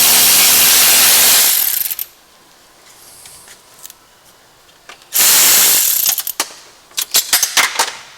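A metal socket drops onto cardboard during valve cover work on a 2010 BMW 335i, giving a few sharp clinks and rattles after a loud ratcheting burst, all close by with no talk.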